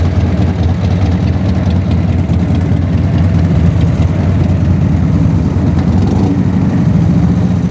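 A car engine idles close to overheating, giving a steady, loud low rumble that continues unbroken with slight rhythmic pulsing and no talk.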